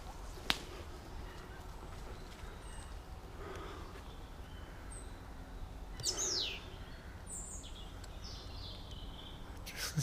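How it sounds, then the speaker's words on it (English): Birds chirping and calling outdoors on a walk, faint and scattered with a louder whistling call partway through, over steady low background rumble. "Listening to the birds"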